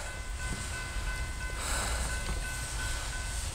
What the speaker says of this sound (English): there's train 212 coming